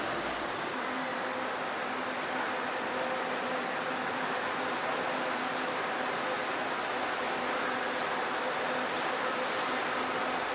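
Steady road traffic of cars and motorcycles on a street, a continuous broadband roar of passing vehicles with no distinct pauses, fairly loud and without speech.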